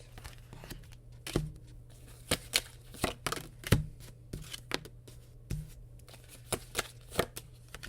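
Tarot cards being shuffled and drawn, with a string of crisp, close, quiet riffling snaps and flicks at an irregular rhythm, alone with no talking.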